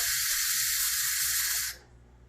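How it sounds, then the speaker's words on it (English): Steam hisses loudly and steadily from an Instant Pot's pressure release after cooking borscht, a bright continuous rush that cuts off sharply near the end, leaving only faint room noise. "Just need to let the gas out."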